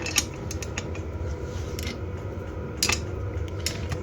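A wrench slowly turning a tight camshaft seated in a cylinder head during a head repair, giving repeated close metallic creaks and ratcheting clicks in uneven strokes against a steady low workshop hum, with no talk.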